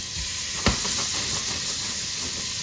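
Raw shrimp hit a hot frying pan with a short thud, then a steady, broad sizzle and hiss of cooking continues throughout, close and fairly loud.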